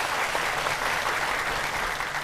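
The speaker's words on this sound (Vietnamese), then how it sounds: "Quý vị cho một tràng vỗ tay ạ." Studio audience on a Vietnamese dating show breaks into a sustained, even wash of applause, many hands together at moderate volume with no voices cutting through.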